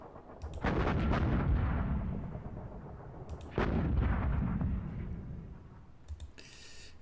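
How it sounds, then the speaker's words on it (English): Artillery batteries firing in the Panzer Campaigns Poland 1939 wargame: two heavy booming shots about three seconds apart, each with a long rumbling decay, alone and without talk, ending with a brief click. "We got those trusty guns there. They can only fire at this target though."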